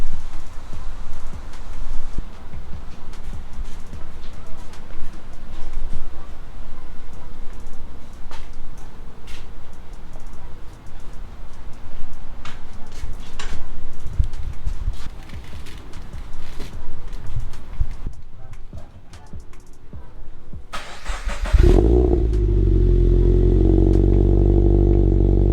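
A Subaru BRZ engine with a newly installed intake inlet hose cranks and fires near the end, after a long stretch of low background noise. It then settles into a loud, steady idle close by.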